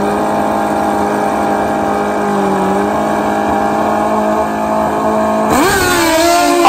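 Kawasaki and Suzuki street motorcycles drag racing, heard as a loud, sustained high-revving engine whine that holds steady. Near the end the pitch drops and climbs sharply as a gear shifts, with no voices.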